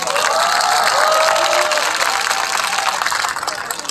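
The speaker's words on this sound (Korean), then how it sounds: "대학생 율동연합팀에게 다시 한번 큰 박수 부탁드립니다" A large outdoor crowd at a Sewol ferry disaster tenth-anniversary memorial applauds a university dance team, a loud dense wash of clapping with some cheering that holds steady and then slowly thins.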